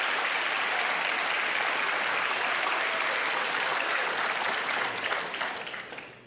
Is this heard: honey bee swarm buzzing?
no